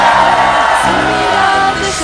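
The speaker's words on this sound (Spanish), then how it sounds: "De un grito de victoria." A church congregation shouts a loud cry of victory together, a dense wall of yelling and whooping voices that holds steady for about two seconds.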